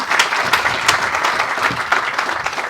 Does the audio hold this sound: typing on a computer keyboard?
no